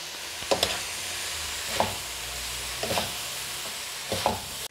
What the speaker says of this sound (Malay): daun bawang bahagian batang dia yang putih ni kita masuk dulu ya dan kita gaul ya